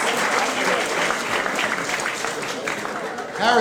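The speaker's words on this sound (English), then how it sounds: "give him a round of applause" Sustained audience applause for comedian Randy Levin at a comedy show, a steady wash of many hands clapping throughout, loud and close, with a brief rise near the end.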